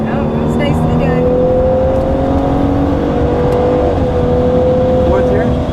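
A 2014 Cadillac CTS twin turbo accelerates hard around a racetrack, its engine holding a loud, steady drone that climbs gradually in pitch and dips briefly midway, with an instructor talking over it throughout.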